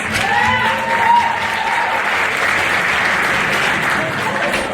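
Loud, continuous crowd clapping at a high school Mr Hoosac 2022 pageant, steady and full throughout, with a few voices and faint whoops blending into the applause.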